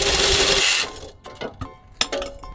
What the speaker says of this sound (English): That's the thing, huh? Sawzall.